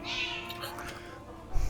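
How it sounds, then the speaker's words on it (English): Close, clear meowing from a cat in a multiplayer game session, one drawn-out call with a short noisy bump at the end. "That is a cat."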